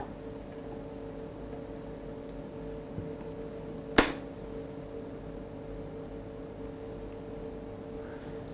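A gene gun fires particles into cells in a lab, giving one sharp, loud pop partway through after a steady background hum from the vacuum equipment.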